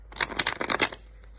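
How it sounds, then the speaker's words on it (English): A quick riffle of tarot cards being shuffled, a rapid burst of crisp flutters lasting under a second, close and quiet, with no speech. "One more shuffle, 2 from the top."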